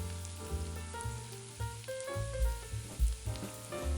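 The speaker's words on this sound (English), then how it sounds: "Place the meatballs so that there's enough space around each one to allow them to brown evenly." Meatballs browning in extra virgin olive oil in a pan give a steady sizzle, partly masked by louder tonal music playing over it.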